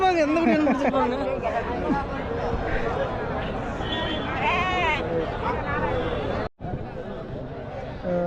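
Goats bleat repeatedly at the Konganapuram goat market in Salem, their cries rising over constant crowd chatter and people talking nearby.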